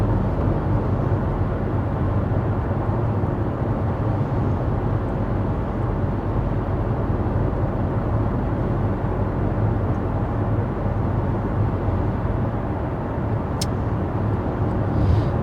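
Steady, even cabin drone of road and wind noise inside a 2023 Ford Escape ST-Line cruising at 55 mph, constant and unbroken with no voices.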